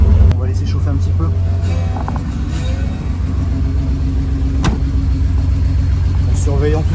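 A Ferrari 400 V12 idles steadily while warming up after years of storage, a deep even rumble held close throughout, with brief clanks and a voice talking over it.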